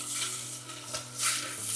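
Firm tofu goes into a pan of golden fried onions for a one-pot tofu pulao, bringing a close sizzle with soft stirring scrapes and a brief rise in crackle near the end.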